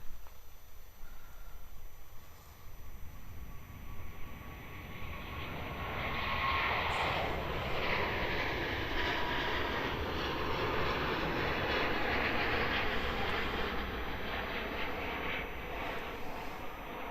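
Jet airliner on its takeoff roll from runway 27 at Melbourne Airport, a faint distant roar that swells after a few seconds and then holds as a broad, steady engine rush.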